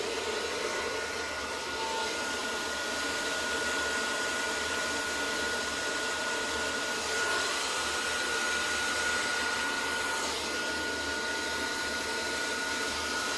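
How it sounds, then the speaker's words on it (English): A hair dryer blows steadily over poured resin on tiles, giving a continuous close, loud airy whir that holds level throughout with no pauses and no talk. "Hair dryer makes up for the lungs I don't have."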